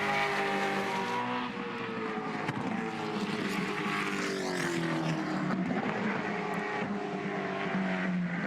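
Gen3 Supercars race cars, a Mustang and a Camaro, run at Bathurst with a continuous loud engine roar and shifting pitch sweeps as the cars pass, steady and close throughout with no talk.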